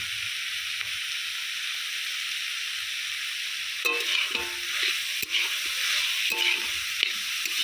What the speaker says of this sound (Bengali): মশলাটাও আমি খুব ভালো করে সবজির সঙ্গে কষিয়ে নিয়েছি